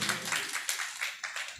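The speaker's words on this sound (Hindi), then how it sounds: "मैं चाहता हूँ रिजवान सर का भी जोरदार तालियों से हार्दिक स्वागत व अभिनंदन किया जाए।" An audience welcoming a guest at a musical evening of evergreen songs gives a brief, fairly faint round of scattered clapping, a few hands beating quickly and unevenly.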